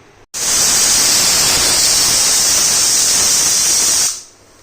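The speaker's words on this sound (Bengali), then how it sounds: "এবারে চলো আমি এর ঢাকনাটা বন্ধ করে একটা সিটি নিয়ে আসি।" A pressure cooker holding bottle gourd peels lets out one loud, sustained hiss of escaping steam for about four seconds. It is close and dominant, cuts off abruptly, and no one speaks over it.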